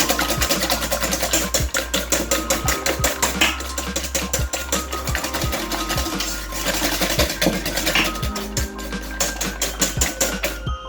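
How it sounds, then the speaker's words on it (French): Eggs being beaten by hand with a whisk for brownie batter, a fast steady clatter of wire against the bowl running throughout, close and fairly loud over a low hum. "On mélange doucement au début. C'est au fouet, hein"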